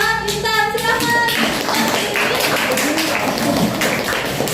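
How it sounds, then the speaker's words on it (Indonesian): Classroom clapping for a student who placed first, a brief burst of hand claps with some chatter and tapping, fairly close and busy in a small room. "Tepuk tangan buat Intan, silakan."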